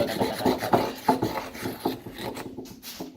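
Pumice rubbed hard into a rock surface gives a rough, rasping scrape in quick repeated back-and-forth strokes, close and fairly loud, fading toward the end.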